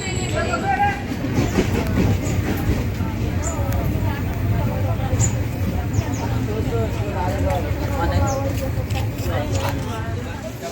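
A passenger train, the Hussain Sagar Express, departing a junction station rumbles steadily on the tracks, with rattling carriages and scattered metallic clicks and squeaks throughout, fairly close.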